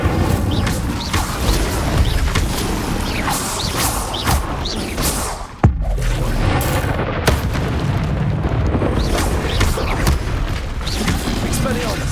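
Fire spells cast repeatedly in Hogwarts Legacy, a continuous roaring, booming blaze with crackling bursts and a sharp hit midway, loud throughout.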